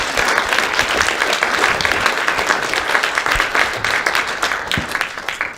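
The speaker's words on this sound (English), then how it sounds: "Let's give a big round of applause to the family." Audience at a community family event breaks into a big round of applause, dense steady clapping filling the room for several seconds before tapering off.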